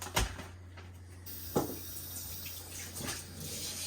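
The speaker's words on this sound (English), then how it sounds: "we're gonna rinse the rice" Rice rinsed with water in a Japanese home kitchen, faint running and sloshing water from a tap with a few soft knocks of a pot or bowl, quiet and steady throughout.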